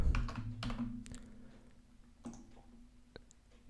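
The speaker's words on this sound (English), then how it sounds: "I can just type" Soft clattering keystrokes on a computer keyboard, a few quick bursts of typing followed by sparse single taps, close and quiet with no talk.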